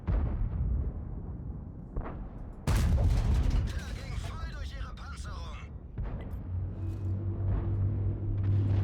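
A tank cannon fires in World of Tanks, one sudden loud boom followed by a rolling rumble, then the low steady drone of an engine, with someone commentating over it.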